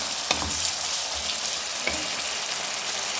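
Sauce with oregano and spices frying for chicken macaroni, a constant hissing sizzle with a few utensil scrapes and taps as it is stirred, close and steady with no voices.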